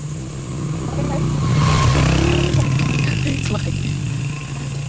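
A motorcycle passes on a road on the way to Talon Falls, its mid-pitched engine swelling and fading under nearby chatter, with steady rumbling road noise throughout.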